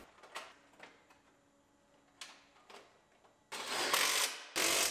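A ratchet tightens bracket screws during final assembly of a 2015 Chevrolet Silverado Duramax LTZ: faint, close clicking strokes in short bursts, then louder, denser ratcheting near the end.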